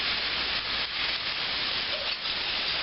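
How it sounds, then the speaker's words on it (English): White wine is poured into a hot pan to deglaze it for a veal saltimbocca sauce, giving a steady, close sizzling hiss that holds for about three seconds, with no talking. "I'm going to pour in some of this white wine."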